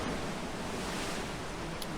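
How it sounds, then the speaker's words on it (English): Ocean waves pound the shore right beside a seaside rock climbing crag as the tide comes in, a steady, dense broadband roar of surf and spray with no talk. "I'm belaying right now right next to these pounding waves, and the tide's coming in"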